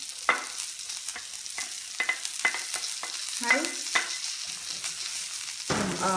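Salmon fries with garlic in a pan: a steady close sizzle with repeated sharp scrapes and clatters as the fish is turned, and a louder rattle near the end.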